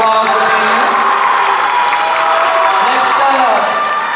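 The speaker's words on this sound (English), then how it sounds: "Let's give Cloverly a big round of applause for being here." A crowd at a high school drumline sendoff applauds and cheers for the Cloverly drummers, a loud continuous wash of clapping, voices and whoops.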